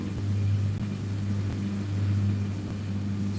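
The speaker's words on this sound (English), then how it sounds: "Now we got giant industrial lawnmower man here." A large industrial lawnmower mows short grass close by in a park near a fishing spot, giving a steady low engine drone with a faint hum that hardly changes over a few seconds.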